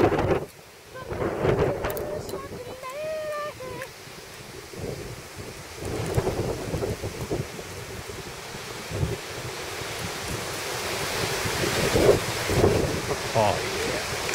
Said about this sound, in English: Wind's like 100 miles an hour out there.